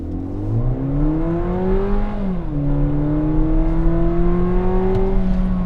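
A Volkswagen Virtus Exclusive 250 TSI engine, heard with its Sound Actor enhancement, revs up close, its tone rising, dipping around the midpoint, then climbing again in a smooth, sustained whir with no talking.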